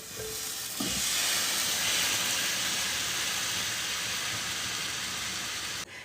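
A loud, steady sizzling hiss starts abruptly and fills the space as cherry plums are dropped into a hot frying pan, continuing evenly until it cuts off.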